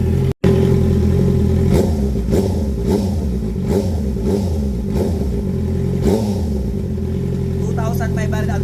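A car engine is revved to about 2,500 RPM for a sound check, with repeated throttle blips rising and falling in a steady rhythm, loud and close; a voice briefly speaks near the end.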